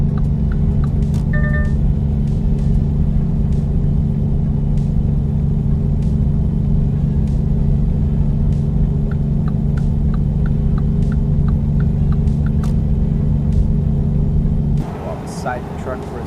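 Car in a driving simulator game cruising at highway speed near 80 mph, a constant low engine and road drone with hum that drops off sharply near the end, with faint clicks over it.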